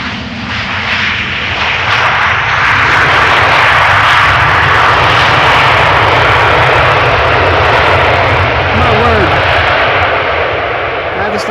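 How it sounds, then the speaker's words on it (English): A KLM airliner roars loudly in reverse thrust after landing at Amsterdam Schiphol Airport, a sustained, broad engine rumble lasting over ten seconds with faint talk beneath it. "Like the third KLM pilot using the reverse thrust in within half an hour or so"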